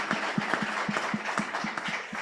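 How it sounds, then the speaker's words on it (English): Audience applause for a guest at a venture-building talk on science and technology startups, a steady stretch of clapping with sharp hand claps scattered through it and no voices. "Applause to her."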